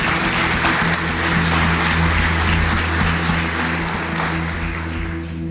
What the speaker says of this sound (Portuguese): É motivo de aplausos a Jesus, sim ou não?